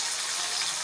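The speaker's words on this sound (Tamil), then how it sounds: "இந்த புளி தண்ணியை தூக்கி ஊற்ற வேண்டியதான்." Tamarind water pours into a hot pan of fried chillies and tomatoes in one brief, steady gushing splash up close.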